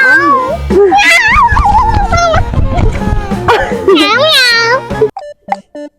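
Outdoors in a park, a person imitates a cat meowing with loud, wavering vocal meows amid lively talking and laughter, trailing off into a few short, quieter sounds at the end.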